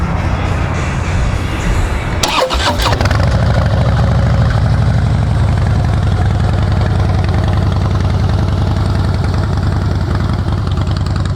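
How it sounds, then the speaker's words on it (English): Harley-Davidson Breakout FXSB motorcycle with Vance & Hines exhaust firing up after a brief cranking burst, then settling into a loud, steady, close-up throbbing idle that continues alone. "Vance & Hines sound real good on it."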